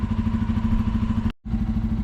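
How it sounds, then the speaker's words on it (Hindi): A Bajaj Pulsar N250 motorcycle engine runs steadily nearby with a throbbing, even idle, cut off by a brief gap of silence before the same rumble resumes. "तो यहाँ पे बाइक स्टार्ट हो चुकी है, काफ़ी देर हो गई बाइक स्टार्ट करे।"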